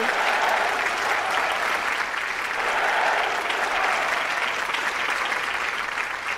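A studio audience at a televised courtroom-style interview show breaks into sustained applause, a loud dense wash of many hands clapping steadily for several seconds with no voices over it.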